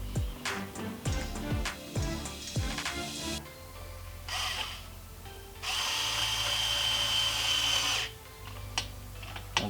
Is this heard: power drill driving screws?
yes